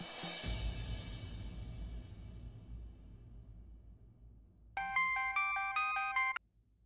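An incoming phone call's melodic ringtone plays loudly for about two seconds near the end, after a low background swell. No one speaks over it.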